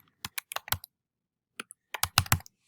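Typing on a computer keyboard to label a plate with a text box, a close, crisp flurry of key clicks, then a short pause and another quick burst of taps, with no voices.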